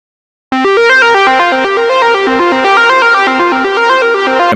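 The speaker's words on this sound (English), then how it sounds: "A nice ostinato kind of lead sound for your song" A bright synth lead plays a repeating ostinato pattern drawn in a MIDI editor. It enters after a brief silence and then runs as steady, evenly timed notes that move in stepwise figures, loud and unaccompanied.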